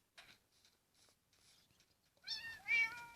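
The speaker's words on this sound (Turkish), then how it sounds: "İşte bir kedi daha." A Minecraft cat meows twice in quick succession, a clear game sound effect, after a stretch of soft scattered clicks and rustling.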